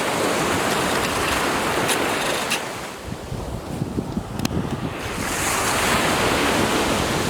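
Ocean surf rolls onto a beach on the Gower Peninsula as a continuous loud wash of breaking waves, with heavy wind buffeting the microphone and a brief lull midway.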